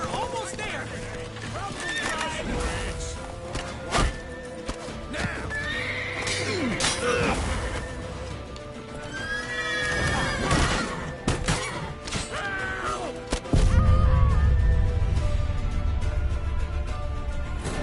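Horses whinny and neigh repeatedly amid hoofbeats and clattering action in The Witcher 3: Wild Hunt, with voices shouting over the busy game soundscape.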